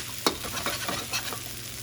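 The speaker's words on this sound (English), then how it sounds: "I'm going to add the shrimp and the sausage back in and stir fry that all around." Rice with shrimp and sausage is stir-fried in a wok. A soft background sizzle runs under several sharp scraping and tossing strokes from the spatula, spaced irregularly and close up.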